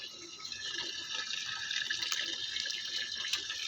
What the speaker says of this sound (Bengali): একদম মাছটা এখন ধুচ্ছে দেখতে পাচ্ছ ভালো করে আঁশও ছাড়ি না